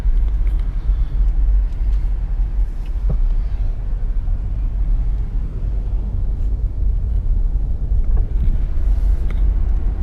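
A yellow Lamborghini's engine rumbles low and steady at a Starbucks, a continuous loud drone with a few faint clicks, no talking.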